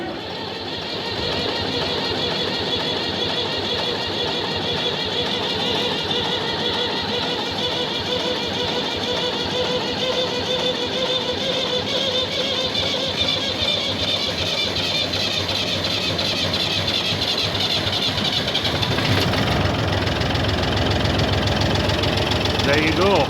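A David Brown 880 tractor's diesel engine runs loud and close, starting up and then idling with a steady knocking rumble. Someone talks over the engine throughout.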